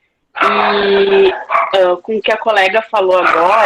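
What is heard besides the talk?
dog barking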